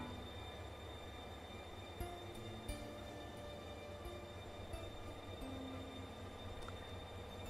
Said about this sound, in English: There's something about this green, transparent, and eerie train that suggests that it's not meant to be here.